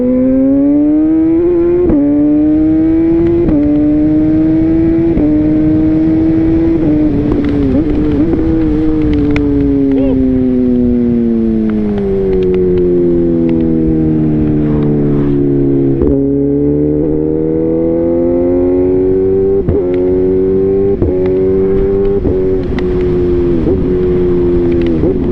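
A beginner-range motorcycle accelerating on the road while being ridden, its engine droning loud and close with a steady rising and falling pitch as the rider pumps through the revs, continuous and with no talking over it.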